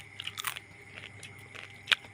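Crunchy food is bitten and chewed close to the mouth in a quiet room, giving a series of crisp, irregular crunches and one louder snap near the end.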